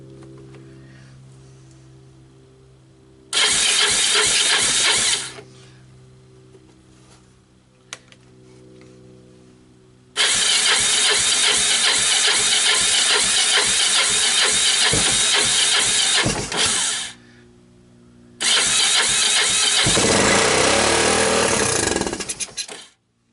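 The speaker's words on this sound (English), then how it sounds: "let's see if we can't get this thing to fire up. Okay, ignition on." A long-unused Kawasaki ATC barn find, sitting idle for 25 years, fires up in three separate loud bursts of rough engine roar. Each run lasts a few seconds and then cuts out, leaving near silence between the attempts.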